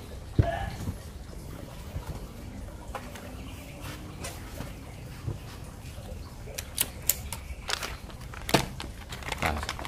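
A Mini Predator Phyton PCP air rifle with a dural barrel fires a string of sharp, separate cracks at a paper target outdoors, with dull rustling and faint background noise between the shots.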